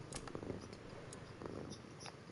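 Polly, a pet cat, purrs in a low, steady murmur near the microphone, with faint rhythmic pulses and light scratchy clicks, quiet and without speech.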